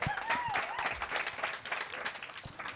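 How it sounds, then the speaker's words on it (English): Audience applause with cheering voices and a brief whistle, a steady burst of many hands clapping throughout. "Clap it up for that."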